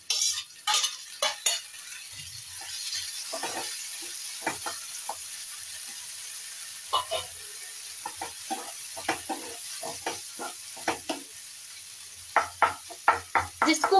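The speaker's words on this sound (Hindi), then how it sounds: "अपने टमाटर ऐड करेंगे" Tomatoes tipped into a pan of fried onions for a home-style dal baati meal, giving a steady sizzle of frying with repeated spoon scrapes and stirring clatters against the pan, close and fairly loud.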